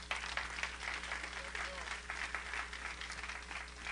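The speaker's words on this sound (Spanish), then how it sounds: "Dele un aplauso fuerte al Señor." A church congregation claps for the Lord during a Spanish-language worship service, a brisk, even round of applause under a steady low hum, with voices mixed in.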